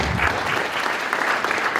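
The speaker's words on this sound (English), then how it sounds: "Let's give them a round of applause." An audience claps steadily in a short burst of applause for event sponsors. The clapping is dense and even, with no talking over it.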